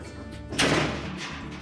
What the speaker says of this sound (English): we simply lift up on both sides of the door